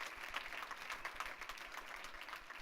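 A church congregation applauds together in praise, a continuous patter of many hands clapping at moderate level, steady and unbroken with slight swells.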